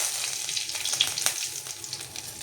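Curry leaves and browned kari vadagam crackle and sizzle in hot oil for a fish kuzhambu, with busy close-up popping and spitting over a continuous fry hiss.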